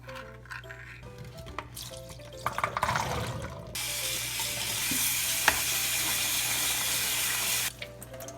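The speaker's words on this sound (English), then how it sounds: "Next, we're going to drain and rinse our can of chickpeas." Canned chickpeas are drained and rinsed under a running kitchen tap, giving a steady broadband rush of water into a sink that lasts several seconds, preceded by clinks and handling noises of the can and strainer.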